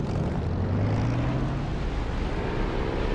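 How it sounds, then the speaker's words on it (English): Propeller aircraft engine in the DCS flight simulator throttling up for takeoff, a steady loud droning roar with a low tonal hum that rises slightly in pitch, continuous with no talking. "I'm going to take my brake off and throttle up and be away."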